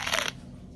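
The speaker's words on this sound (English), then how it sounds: "Mouse took a bite." A single crisp crunch of teeth biting into a raw carrot, close and fairly loud, lasting a fraction of a second before fading into quiet background.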